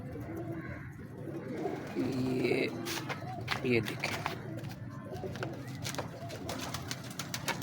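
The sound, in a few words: pigeon cooing, female Mairon pigeon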